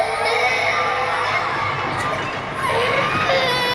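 Children screaming and crying in an anime scene from Death Note, a dense, continuous wall of shrill young voices and crowd-like shouting that swells louder toward the end.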